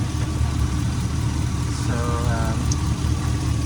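A Chevy Silverado 2500 HD idles with its A/C compressor running, giving a steady, loud low engine drone with a constant hum and no break.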